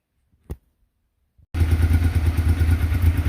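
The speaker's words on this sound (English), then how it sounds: "You want to run the bike for a while." Honda XRV750 motorcycle engine starts after a single thump and settles into a steady, close, rumbling idle with a rhythmic mid-pitched beat.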